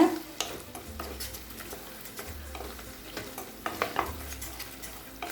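A spoon stirs and scrapes through chilli chicken sauce made with vinegar, soy sauce, chilli sauce and tomato sauce. Faint clinks of utensil on pan repeat over a soft sizzle from close by.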